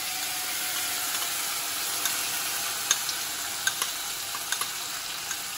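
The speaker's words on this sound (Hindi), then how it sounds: "मसाला डालने के बाद हम इसे लगातार चलाते रहना है" Curd and spice masala cooking in a pan over low heat for dum aloo, a continuous bright sizzle with scattered clicks of a spoon stirring, heard alone without talk.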